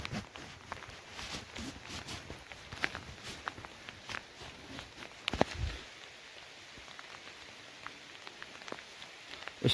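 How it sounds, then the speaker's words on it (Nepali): Rain falls while someone walks home from the office, a faint patter mixed with scattered footstep-like taps and clicks, quiet and close. "पुरै पानी पर्यो हौ यस्तो पुरा उमा पुरै पानी परिरहेछ"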